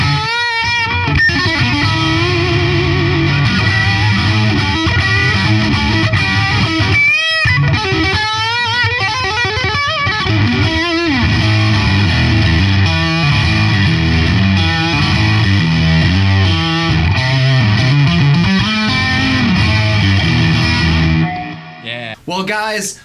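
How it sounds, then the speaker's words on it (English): An electric guitar is played loud through an amp's lead channel with distortion and pre-gain cranked, giving a saturated, sustained crunch of chords and riffs with squealing overtones and a long echoing tail, ending in a short fading pause. "we're gonna just crank the distortion, go to the lead setting on this particular amp, and I'm gonna push that pre-gain"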